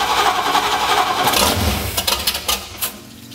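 A 1978 Sleekcraft Aristocrat boat with a 350 V8 engine starts for the first time. A loud, rough cranking churn catches into a deep low rumble, then sputters with a few uneven pops, with no voices.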